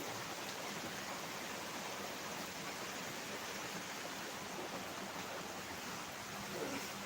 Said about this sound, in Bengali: দেখুন কি সুন্দর বৃষ্টি